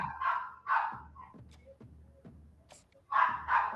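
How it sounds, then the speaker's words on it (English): A dog barks outside a window, a few muffled distant barks in two clusters separated by quieter whimpering sounds. "can you hear the dog barking outside my window?"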